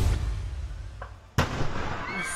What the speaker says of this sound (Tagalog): Biglang may sumabog habang nasusunog ang bahay na yan sa Legazpi City, Albay.